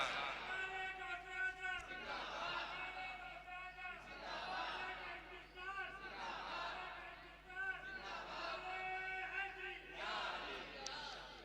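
A large crowd gathered for an Urs commemoration chants religious slogans in unison in reply to the Naara-e-Takbeer call, with sustained voiced phrases rising and falling in repeated waves and short pauses between them.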